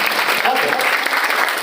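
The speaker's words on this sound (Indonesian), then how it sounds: "People, berikan tepuk tangan untuk LP3 Cimory hari ini." Audience at a motivational seminar on the LP3I Cimone polytechnic campus bursts into loud, continuous applause, a dense clapping wash with voices mixed in.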